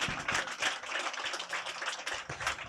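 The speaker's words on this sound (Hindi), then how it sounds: "सब लोग जोरदार ताली बजाएंगे इस नाटक के लिए" An audience applauds a skit with dense, quick clapping that holds steady throughout, moderately faint and with no talk over it.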